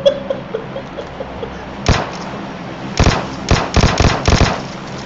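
Gunfire in the PUBG Mobile video game: one sharp burst, then a cluster of rapid, loud shots in quick succession, close and punchy, with light background noise in between.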